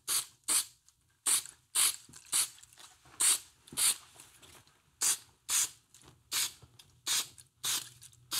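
An aerosol can lays a satin finish onto a lightweight Aermacchi motorcycle shock part in a shop, with a series of short, close hissing bursts separated by brief pauses.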